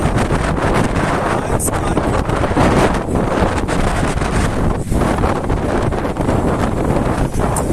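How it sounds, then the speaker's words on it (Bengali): Strong wind buffets the microphone in an open park area of Makati Triangle, Manila, a loud, continuous roaring rumble with gusty surges throughout and no clear voices. "অনেক জোরে বাতাস।"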